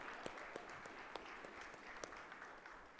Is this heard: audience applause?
yes